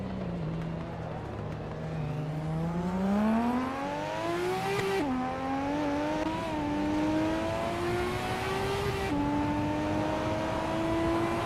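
A 1991 Toyota Celica and rival race cars in a racing video game, the engine droning loudly and rising in pitch through the gears, with sudden drops at each shift and a steady roar throughout.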